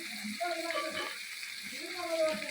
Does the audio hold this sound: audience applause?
no